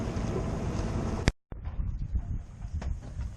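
Steady wind rush over a boat heading into Annapolis Harbor under a bridge with a light north wind, roaring across the microphone, broken once by a sharp knock and a short dropout.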